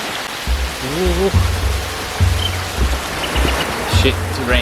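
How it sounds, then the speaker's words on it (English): Heavy rain pours down during the rainy season, a steady dense hiss and patter of drops that fills the whole clip, with a voice rising briefly above it. "It's raining a lot actually."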